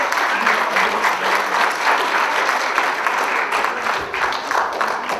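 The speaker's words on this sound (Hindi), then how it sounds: "बहुत जोरदार तालियों से इनका स्वागत कीजिए।" Loud, sustained applause from an audience at an annual Hindi school and community celebration as a performer playing the Buddha comes on stage, dense clapping running steadily throughout.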